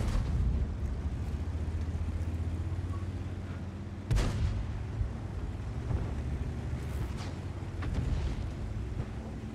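Tank gun shot striking a tank in World of Tanks, one sharp heavy impact boom cutting through a steady low engine rumble, followed by fainter distant thuds.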